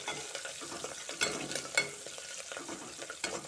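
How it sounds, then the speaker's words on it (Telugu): Gongura leaves with dried shrimp and curry leaves fry in a pan, a soft sizzle under scraping stirs and occasional clinks of the spoon. "ఒక నిమిషం వేగనివ్వాలి సార్."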